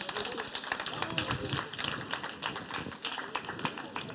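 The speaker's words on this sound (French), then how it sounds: "On peut les applaudir." Applause from a workshop audience congratulating three quiz winners, dense, steady clapping lasting throughout with some voices mixed in.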